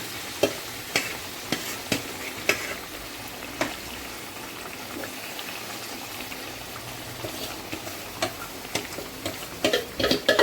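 Boneless chicken pieces fry in hot oil with a steady sizzle, punctuated by sharp clicks and scrapes of stirring at irregular intervals; no voices.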